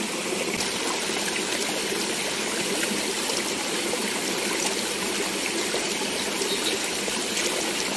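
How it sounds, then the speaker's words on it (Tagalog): Floodwater flows steadily through a cleared channel, a loud, unbroken rushing and trickling close by with no talk. "Nililinis ni tatay para malinis yung dadaanan ng tubig."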